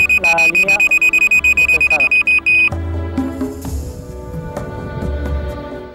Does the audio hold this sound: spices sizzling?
no